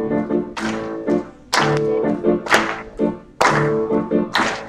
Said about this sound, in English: Could do a hand clap at this one